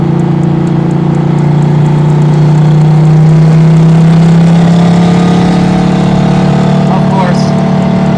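A 900hp big-turbo LS1-swapped Mazda RX7 with a T56 gearbox pulls hard in third gear, a loud close-up engine drone rising steadily in pitch as it accelerates, heard from inside the car with voices talking over it.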